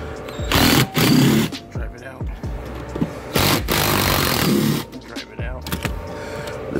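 Power driver removing the seat bolts on a 2007 Chevrolet Silverado passenger seat, several whirring bursts of the motor with pauses between, plus clicks and rattles, close by and with some talk.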